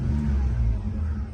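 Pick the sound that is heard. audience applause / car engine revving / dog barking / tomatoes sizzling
car engine revving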